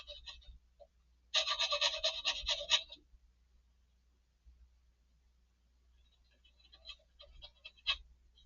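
A rounded fret file rasps through holes in a Telecaster-style kit guitar body: one long run of quick scratchy strokes, then a pause and lighter, scattered filing strokes near the end.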